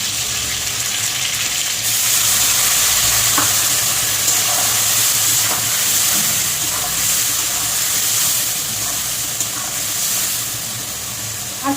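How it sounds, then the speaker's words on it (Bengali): Spice paste mixed with a little water is stir-fried in oil for a hilsa fish curry, a loud, steady close sizzle with occasional scraping stirs and soft clinks, continuing without pause; no one speaks. "একটু ভালো করে কষিয়ে নেব"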